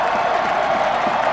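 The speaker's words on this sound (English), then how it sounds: "Crowd is loud." A loud stadium crowd at a college football playoff game between Incarnate Word and Sam Houston, a dense, steady roar of many voices filling the whole short stretch.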